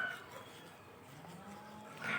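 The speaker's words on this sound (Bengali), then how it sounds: "আর তোমরা কিন্তু একটু মুরগির ডাক, ছাগলের ডাক এইসব শুনতে পারো," In a village at morning, a goat gives one faint, drawn-out bleat at a distance over quiet ambient background.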